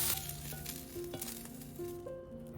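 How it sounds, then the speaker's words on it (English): Snow peas and vegetables stir-fry in a hot pan for pork chop suey, giving a close, steady sizzle with the scrape and clatter of stirring. "Add the snow peas and keep stir-frying briefly for another 30 seconds."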